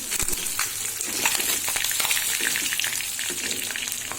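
Meat frying in a pan: a continuous close crackle and spatter of hot oil with scattered small pops, fairly loud and unbroken throughout, with no talking.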